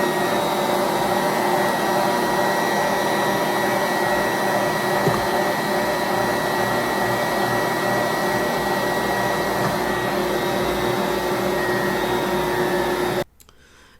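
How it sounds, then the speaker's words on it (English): A Bosch stand mixer churns flour into bread dough with a steady, loud motor hum that runs unbroken for about thirteen seconds, then cuts off abruptly. "I'm gonna have my Bosch mixer on too for this."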